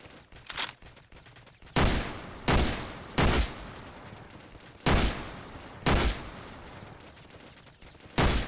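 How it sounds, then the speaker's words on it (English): Rifle shots at targets in the shooter game OTXO, about seven sharp loud cracks spaced unevenly with brief echoing tails, no speech. "Take some shots at these targets"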